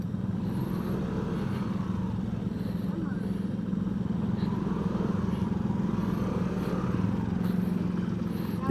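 A motorcycle ridden and parked outside Tagum City Hall gives a steady, low engine drone that runs unbroken from start to finish, while people talk over it.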